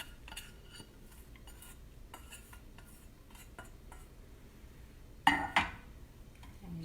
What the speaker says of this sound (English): And you just stir it around until it's mixed well.